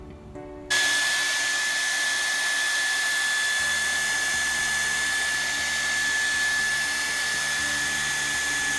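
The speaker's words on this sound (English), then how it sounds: "now I'm gonna use a hair dryer to blend it" A hair dryer switches on abruptly and blows steadily with a high whine over freshly poured epoxy resin on a wood pallet, loud and close, running continuously.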